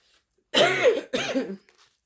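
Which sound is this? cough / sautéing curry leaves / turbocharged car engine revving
cough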